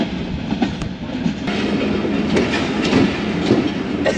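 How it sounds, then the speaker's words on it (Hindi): A train, the Allama Iqbal Express, pulls into Nawabshah Junction station with a steady loud rumble of rolling carriages and faint rhythmic wheel clatter throughout, without any talk. "नवाबशाह जंक्शन रेलवे स्टेशन पहुंच गई है ट्रेन"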